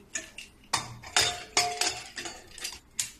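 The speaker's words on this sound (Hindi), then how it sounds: "अब मैं इसका ढक्कन लगाऊंगी।" A metal lid goes onto a pot of mango and water being readied for the stove. A quick run of about eight close, bright metallic clinks and scrapes follows, with no talking.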